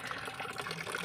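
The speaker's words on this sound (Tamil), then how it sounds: "அதுக்கப்புறமா நல்லா வடிகட்டணுங்க" Soaked liquid fertilizer for rose plants pours and trickles through a filter, a steady close splashing and dribbling of water with no talk.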